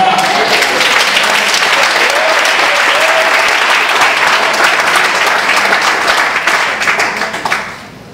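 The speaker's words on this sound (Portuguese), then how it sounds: "Aplauda o Senhor." A church congregation applauds during a sermon, loud and dense clapping from many people sustained for several seconds before fading near the end.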